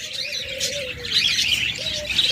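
Budgerigars, cockatiels and lovebirds chirp close by in quick, overlapping bursts, with a couple of longer whistled tones running beneath the busy chatter.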